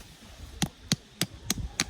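Five sharp, evenly spaced thuds from a hammer driving a stake into the ground while a hammock tarp is pitched outdoors, each strike a clear separate impact with no voices.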